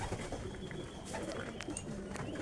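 Racing pigeons resting on a shed at a small loft, soft cooing and fluttering mixed with faint outdoor ambience, close but quiet, without speech.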